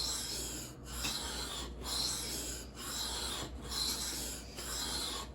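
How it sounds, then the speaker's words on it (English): Knife blade drawn over a sharpening stone in steady rasping strokes, about five evenly spaced passes with short pauses between, close and fairly loud with no talk. "Now we're gonna flip it over, and it usually only takes a few strokes to get that burr to flip back to the other side."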